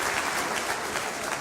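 An audience in a church service claps steadily throughout, a dense, even wash of many hands with no voices on top.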